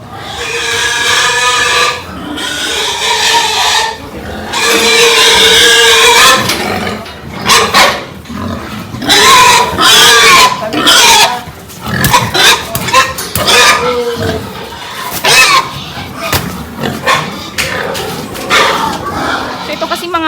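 Pigs at a farm's selling area grunt and squeal in loud, close bursts, overlapping irregularly with someone talking throughout.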